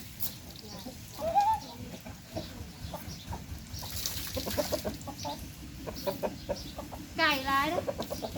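Chickens cluck in short bursts now and then amid outdoor rural noise, with people talking nearby.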